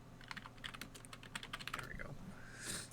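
Quick, uneven clatter of keys on a computer keyboard, close and fairly quiet, with short bursts of keystrokes and brief pauses.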